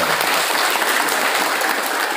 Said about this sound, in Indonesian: Nah, tepuk tangan loh Bapak bisa dengar ya.